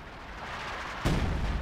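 Artillery fire in the World War II strategy game Company of Heroes 2 ends a low rumbling ambience with a single heavy, close blast that leaves a booming roar.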